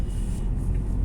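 Loud low droning rumble inside a moving Daewoo Nexia 2 sedan, a steady engine and road roar filling the cabin despite added sound insulation, with no speech.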